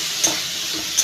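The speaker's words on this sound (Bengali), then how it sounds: "হলুদ গুঁড়ো, লঙ্কার গুঁড়ো সবগুলো মিশিয়ে একসাথে ভালো করে কষিয়ে নেব।" Ground turmeric and chili powder sizzle and fry in a pan, with a steady hiss and two short scraping stirs standing out clearly.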